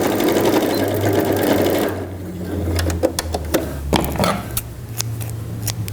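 A sewing machine topstitches a seam on a pink patchwork backpack, running in a loud, fast, close burst for about two seconds, then stopping into scattered clicks and handling noises.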